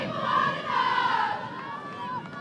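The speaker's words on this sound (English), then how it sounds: "it's great to see and hear the chanting that's starting" Crowd at a girls' gold medal sports match raising a sustained, echoing chant and cheer, a steady wash of many voices filling the venue with rising and falling vocal tones.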